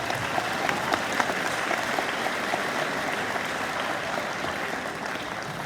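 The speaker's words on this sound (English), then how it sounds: "Give them a round of applause." Audience applause fills a high school awards ceremony for grades 9 to 11, steady and dense for several seconds at moderate distance, with faint crowd murmur underneath and no one speaking.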